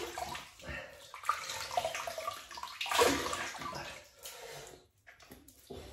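Water splashes and runs at a sink as a freshly shaved face is rinsed during a wet shave. The sound is continuous and close, with gurgling and irregular splashing that fades out near the end.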